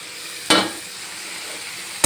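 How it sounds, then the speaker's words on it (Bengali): Fried kohlrabi and potato pieces are turned into a spice masala in a pan, two sharp spatula scrapes standing out over a continuous close sizzle, with no voices. "ভালো করে ওলকপি আর আলু আর মশলাটাকে ভালো করে মাখিয়ে নিই"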